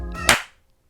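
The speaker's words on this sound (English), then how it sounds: "Wait, let's clap." A single sharp hand clap, close and crisp, cutting off a brief stretch of voice just before it and ringing out into quiet.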